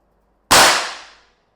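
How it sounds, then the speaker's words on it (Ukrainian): A single sharp, close report from a Gamo G-Magnum 1250 Jungle air rifle with a hissing tail that fades within a second, surrounded by silence. "І постріл."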